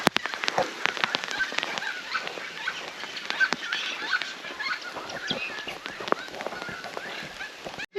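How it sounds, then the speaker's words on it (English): Light rain pattering on leaves during a bush walk through banksia, heard as a steady faint patter of scattered drips with no talk over it. "Bit of rain coming."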